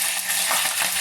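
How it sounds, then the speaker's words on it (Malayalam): Green chilies hit hot oil in a pan while making a plum pickle, setting off a close, steady sizzle and crackle with faint stirring clatter, no talk. "അപ്പോൾ ആ പച്ചമുളക് ഞാൻ ഇതിലോട്ട് ഇടുകയാണ്"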